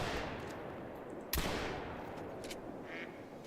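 A single sharp gunshot cracks out in a video game duck hunt, one loud burst standing over a steady wash of background noise.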